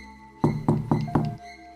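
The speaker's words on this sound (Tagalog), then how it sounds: "makalipas ang ilang minuto ay may kumatok sa pinto" Four heavy, evenly spaced knocks land on a door as a sound effect in a Tagalog horror story, loud and close with a resonant wooden thud, followed by quiet.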